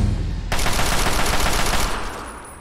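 Sudden heavy automatic gunfire from Fallout 3 bursts in after a brief lull, a dense, loud, continuous rattle of rapid shots that fades slightly toward the end.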